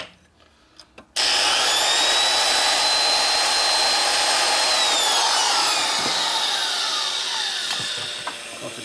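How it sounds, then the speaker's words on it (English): Power grinder working the head of a 1977 Harley-Davidson XLCR 1000cc ironhead Sportster, a loud steady whine starting abruptly after a second of quiet, with pitch sliding down near the end and a few faint knocks. "Lots of grinding good around here."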